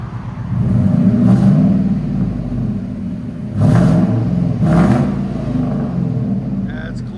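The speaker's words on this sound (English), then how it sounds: "99 Ford F-150 true duals with Borla ProXS" A 1999 Ford F-150 with a 4.6L V8, no catalytic converters and a Borla ProXS true dual exhaust idles with a deep rumble, then revs up in several throaty swells that rise and fall, loud and close.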